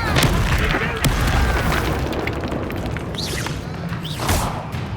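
A fire spell is cast during combat in the video game Hogwarts Legacy, a loud, dense burst of crackling blasts and booms with whooshing swells over a busy, noisy battle bed.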